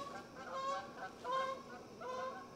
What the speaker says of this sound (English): Canada geese flying over.